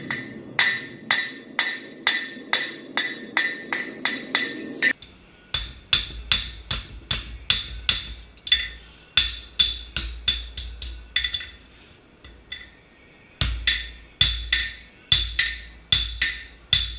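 Repeated sharp metallic hammer strikes on an anvil, forging a horseshoe, ring out in quick, steady bursts, with short pauses between groups of blows; no talking.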